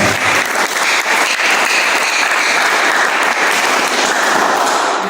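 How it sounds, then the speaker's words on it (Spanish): A church congregation claps loudly and steadily for the whole stretch, a dense wash of many hands during an evangelical service, with no speech over it. "Dale fuerte palmas al Señor."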